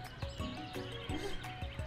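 Horse sounds in the video game I Love You Colonel Sanders, with brief snorts and whinny-like calls repeating over a busy game background of music and effects, moderately loud.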